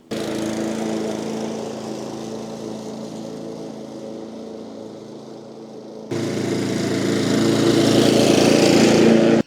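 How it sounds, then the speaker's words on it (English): A lawn mower cuts a bumpy, lumpy lawn with a steady, droning engine and blade whir that runs throughout. It jumps louder and brighter partway through as the load or position changes. "Now let's get this lawn cut."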